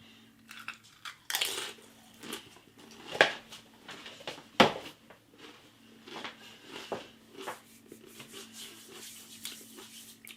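Doritos Stax stacked chips, Ultimate Cheese and Flamin Chicken Wings flavours, being bitten and chewed close up, with irregular soft crunches and a few sharper cracks over a low steady hum, no talk.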